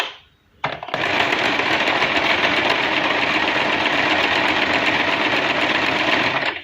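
A Singer Simple sewing machine stitches a dense decorative design, starting after a short click and then running continuously with a close, steady, fairly slow mechanical whir and rapid needle rattle, no talking.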